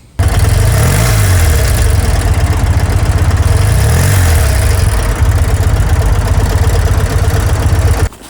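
A BMW R100 motorcycle engine with freshly jetted Bing CV carburettors runs steadily at idle, loud and close, a constant throbbing drone with slight swells, no voices.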